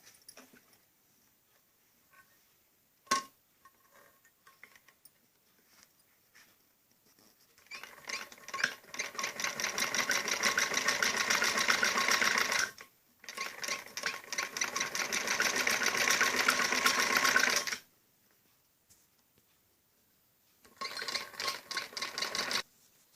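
Sewing machine stitching piping onto a kameez neckline, running in fast rattling bursts of several seconds each with short stops between, close and loud, preceded by a quiet stretch with a single click.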